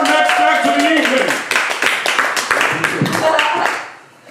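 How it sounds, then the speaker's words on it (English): Applause from a theatre audience welcoming the next act of the evening, a loud burst of dense clapping with voices mixed in that tapers off near the end. "please keep that round of applause going for your next act of the evening"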